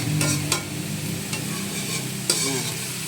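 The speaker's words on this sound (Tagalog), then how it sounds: "papaikot-ikutin din yung paghahalo" Bitter gourd sautéed with eggs being stirred in a pan, a continuous sizzle broken by a few sharp spatula scrapes and clacks against the pan, close up and without talk.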